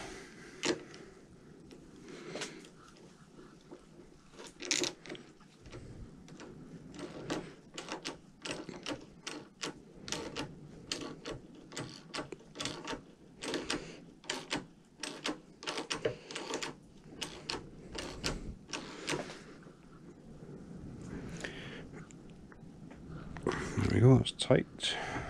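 Quiet, irregular metallic clicks and ratcheting come from a 17mm nut being turned and tightened on the steering rack of a Mazda MX-5 based Locost build. Someone talks over the work throughout.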